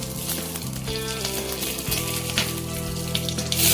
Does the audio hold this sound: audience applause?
no